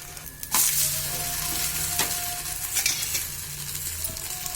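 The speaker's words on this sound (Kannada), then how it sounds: "ಕಾಯಿ ದೋಸೆ ಸ್ವಲ್ಪ ಬೇಯೋದು ನಿಧಾನ." Fresh coconut dosa cooking on a hot pan, a steady sizzle with a few sharp scraping clinks of a utensil and a faint low hum in the kitchen.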